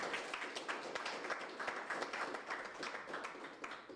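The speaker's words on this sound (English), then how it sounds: "let's give them a round of applause" A round of applause from a webinar audience on robotics and coding education, a thin, uneven patter of a modest number of people clapping, with close individual claps standing out.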